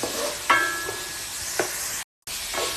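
Sliced tomato sizzles in a hot pan for squid adobo, with a steady frying hiss and a few sharp crackles and stirring clatters as the pieces go in; no one talks.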